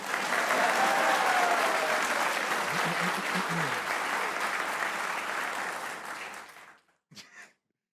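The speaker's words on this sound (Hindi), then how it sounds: "एक बार बेटा तालियां बजा कर।" Applause from an audience celebrating India's cricket win over Pakistan, a loud, dense burst of clapping that holds steady for about six seconds, then cuts off, followed by a brief final spatter of claps.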